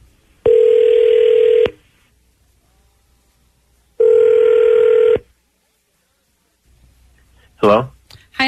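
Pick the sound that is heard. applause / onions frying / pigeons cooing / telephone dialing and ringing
telephone dialing and ringing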